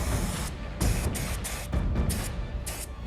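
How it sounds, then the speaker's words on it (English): A spray gun sprays a chocolate cup in a competition kitchen, giving a close, loud hissing spray in pulsing bursts that start and stop several times in quick succession. "So I start to spray the cup."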